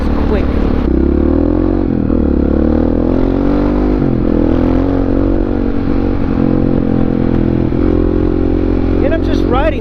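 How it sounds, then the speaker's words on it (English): A supermoto motorcycle being ridden: a steady, loud engine drone with shifting revs throughout, close up, with wind rush and clatter. "And I'm just riding this normally, but this bike is incredibly fun."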